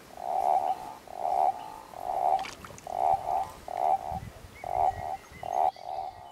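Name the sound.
common toads calling in flooded sinkholes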